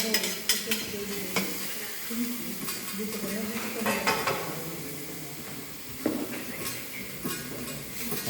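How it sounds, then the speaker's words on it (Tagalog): Minced beef sautes in a pan, giving a soft sizzle beneath repeated scraping and stirring strokes of a utensil, with occasional clinks against the pan, close and fairly quiet. "we're gonna cook, saute the minced beef"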